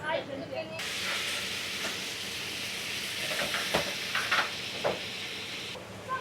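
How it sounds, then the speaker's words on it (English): Dumplings fry and steam in a big pan at a Shanghai street stall, giving a steady loud hiss and sizzle with a few sharper spits, heard up close. "So they start in this big pan by frying the dumplings, and you can see at the bottom of the dumplings they're nice and crispy."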